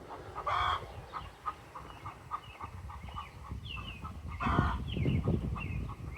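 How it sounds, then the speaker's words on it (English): Chickens cluck and squabble nearby in a farmyard, with scattered short clucks and a louder flurry of squawking partway through. "Oh man, chicken squabbles. We got chicken noises."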